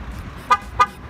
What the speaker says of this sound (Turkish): Görüldüğü üzere iki kez kornayla bize geri bildirimde bulundu.